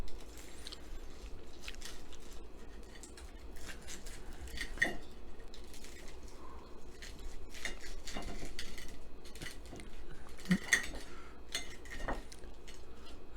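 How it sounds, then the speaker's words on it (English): A serrated knife saws through a hot, juicy cooked pork hock for crispy pata, giving faint scraping strokes with scattered clicks and taps of the blade against a plate or board, soft and close against low background noise. "Now to cut up the hock itself. I'm using a serrated knife."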